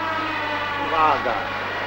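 A World War II air raid alarm siren wails with a wavering, rising tone for a couple of seconds over a constant low background hum.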